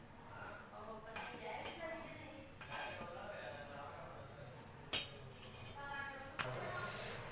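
Milk simmering in a pan and being stirred to cook down into khoya for gulab jamun, with soft scraping and a couple of sharp spoon clinks against the metal, heard under continuous talking.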